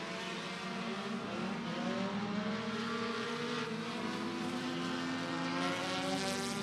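Compact race cars run hot laps at Beckley Motor Speedway, a steady droning engine roar heard from a distance with no pauses.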